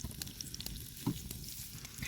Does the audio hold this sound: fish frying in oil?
yes